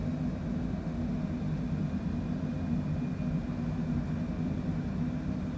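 Airliner engines at climb power in Microsoft Flight Simulator 2020 give a steady, even drone with a heavy low rumble and a constant hiss. The sound is uninterrupted throughout, with no talking.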